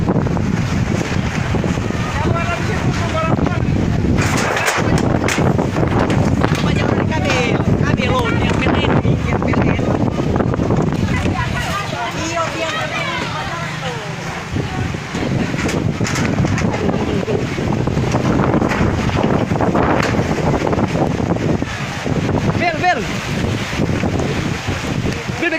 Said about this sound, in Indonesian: Angin masih bertiup kencang.